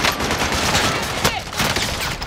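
Dense, sustained automatic gunfire from Call of Duty: Modern Warfare crackles loud and close, rapid shots overlapping with no pause.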